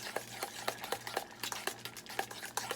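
A spoon stirs banana waffle batter in a container, scraping and knocking against the sides in a steady, quick rhythm of close, fairly quiet strokes with no talking.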